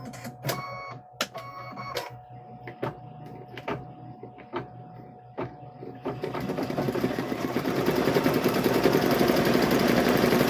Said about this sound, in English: We'll get all these stitched on here.